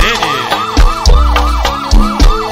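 A wailing siren effect sweeps up and down repeatedly inside a loud song, riding over a heavy thumping bass beat.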